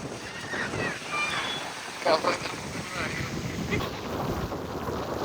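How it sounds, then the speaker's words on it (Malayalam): Strong wind roars steadily against the microphone throughout, a broad, continuous rushing with a few louder gusts, with faint, muffled voices underneath. "എന്താ കാറ്റ്?"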